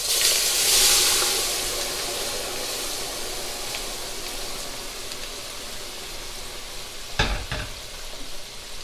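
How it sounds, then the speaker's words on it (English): Chopped onion, celery and bell pepper hit a hot roux in a gumbo pot, giving a loud, hissing sizzle that swells at the start and then holds steady, with a couple of brief stirring clatters near the end. "And this is instantly searing all of these vegetables."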